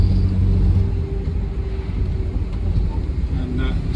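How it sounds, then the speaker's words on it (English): A 1959 Alvis TD21 with its 3 litre straight-six cruises along, a low steady engine rumble heard from inside the car with wind noise over it. "Very torquey 3 litre straight 6 on it"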